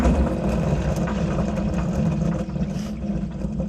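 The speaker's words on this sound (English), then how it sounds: "That's what bearings are supposed to sound like." Steady mechanical rattling and rumble from bearings in an antique Caterpillar RD4 tractor transmission, a continuous low drone with gritty clatter throughout, fairly close and loud.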